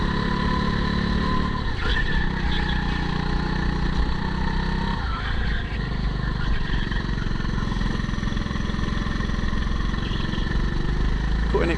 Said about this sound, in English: trying to keep the throttle input high whilst going through to keep the engine revs as high as possible